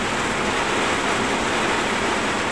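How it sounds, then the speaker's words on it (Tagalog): Heavy rain pours down steadily as a dense, unbroken hiss that fills the scene, loud and close with no voices over it. "Lakas-lakas pa ng ulan"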